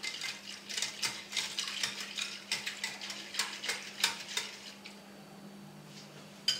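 A spoon stirs a gelatin and cream mixture in a dish, tapping the sides in quick, rhythmic clinks that run steadily and then stop near the end. The clinks are fairly quiet, over a low steady hum.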